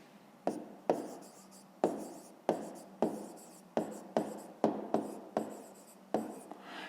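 A pen writes out the answer to a fifth-grade math exercise, a series of sharp taps and short scratchy strokes close up, in an irregular rhythm with quiet gaps between them and no talking.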